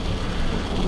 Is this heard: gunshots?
no